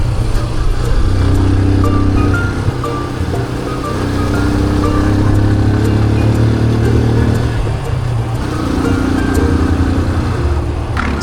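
A motorcycle cruises steadily along a road through tea fields in Sri Lanka, its engine droning loud and close with a continuous low rumble, wind roar and faint rattling clatter throughout.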